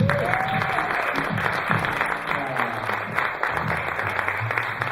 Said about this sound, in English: A warm, rousing applause for Nikki.